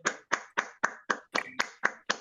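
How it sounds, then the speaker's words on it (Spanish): A handful of slow, evenly spaced hand claps, about nine in a row, close and isolated, thanking a professor after a conference lecture on women geometers. "Voy a pedir si podemos agradecer con un aplauso a la profesora Juliet."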